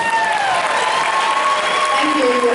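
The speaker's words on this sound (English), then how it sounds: "Give yourself a round of applause." Convention panel audience applauding, a dense, loud wash of clapping with a few cheers running steadily throughout, a voice carrying over the crowd.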